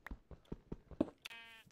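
A sheep bleats in the video game Minecraft: one wavering, buzzy bleat near the end, loud and close, after a run of short rhythmic sounds.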